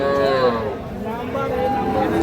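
A cow lets out a long, loud moo up close at a cattle market, its low drawn-out call sliding in pitch over the bustle of an outdoor crowd.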